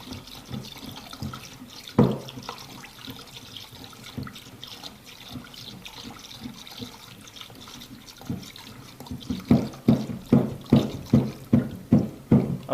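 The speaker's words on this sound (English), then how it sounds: "which is your isopropyl alcohol, and you mix while stirring." Isopropyl alcohol being stirred into a liquid mixture while making homemade Dettol antiseptic, heard as a soft watery swirl that turns into a rapid series of rhythmic sloshing pulses toward the end, with no talking.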